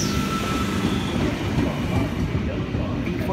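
A V-set double-deck Sydney Trains electric train arriving at platform 1 of Central Sydney Terminal: a loud, continuous rumble of wheels and motors close by, with faint squealing tones rising above it.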